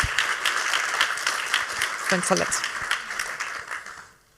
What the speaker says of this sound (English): Please join me in a new round of applause for our 3 keynotes